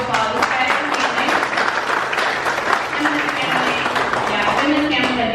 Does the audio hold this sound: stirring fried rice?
no